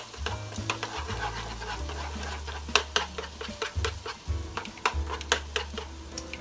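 Eggs being stirred and scrambled in a hot pot for a one-pot meal, with a soft sizzle under repeated close scraping and tapping strokes of a utensil against the pot.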